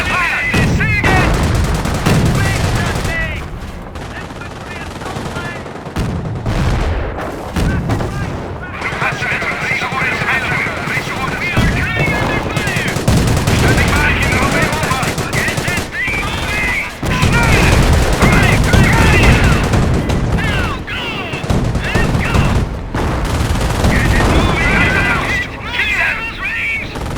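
Dense gunfire and machine-gun bursts from the World War II strategy game Company of Heroes, in the Operation Market Garden Highway 69 mission, rattle loudly and continuously alongside booms and shouted voice lines.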